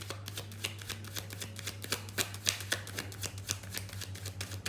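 A deck of tarot cards being shuffled up close, a steady run of rapid papery riffles and flicks over a low constant hum.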